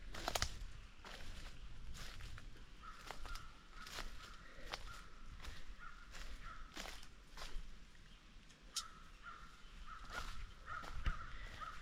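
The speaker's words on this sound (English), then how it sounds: "I'm telling you, those crows." Crows caw repeatedly at a campsite, harsh calls coming in short bursts from a moderate distance, with footsteps crunching and rustling nearby.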